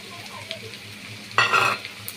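Prawns go into hot oil with onions and green chillies, a quiet kitchen moment broken by a sudden loud sizzling burst that fades after about half a second.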